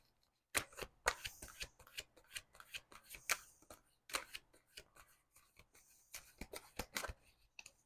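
Tarot cards being shuffled and dealt during a reading, a series of close, crisp riffling and slapping bursts in irregular clusters, with no talk.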